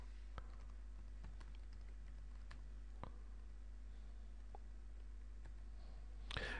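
Faint scattered keystrokes on a computer keyboard, irregular clicks spaced apart over a constant low hum, with a brief burst of quicker taps at the end.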